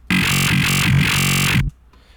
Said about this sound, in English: If I routed it out at 100, it would clip and sound nasty and distorted.